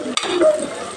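Green chillies fry in a pan under a steady sizzle, with a brief stir or scrape near the start.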